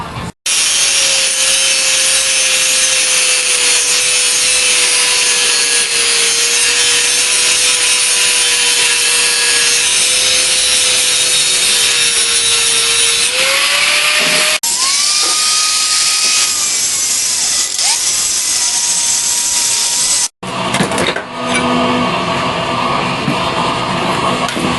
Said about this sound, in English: I'm going to use the angle grinder and just remove